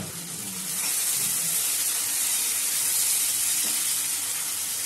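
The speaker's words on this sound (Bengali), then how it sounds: "মশলাটা ভালো করে কষিয়ে নেবো" Masala frying in a pan for Bengali dhaba-style egg tadka, a steady bright sizzle and hiss that swells after the first second and holds evenly, close and moderately loud.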